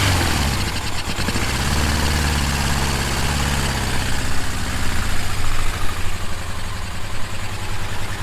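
A 1977 Suzuki GS550E motorcycle engine runs on choke, a loud, close, steady rough idle with a rapid low pulse and slight unevenness.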